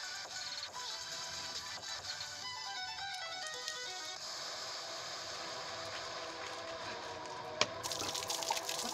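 Water drains from a refilled, shaken bottle, swirling down in a tornado-shaped vortex, giving a steady gurgling, trickling rush that runs continuously at moderate loudness throughout, with a brief splash near the end.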